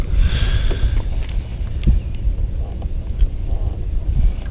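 Steady low wind buffeting the microphone outdoors while bass fishing, a constant rumbling roar with occasional faint clicks and rustles on top.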